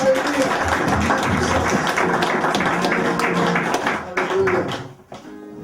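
Church congregation clapping during a French-language worship service, a continuous patter of hands under a loud voice speaking, fading out near the end.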